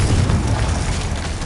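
A Confringo blasting spell in a Hogwarts wizarding game, a loud sustained rumbling boom that fills the whole moment with no speech over it.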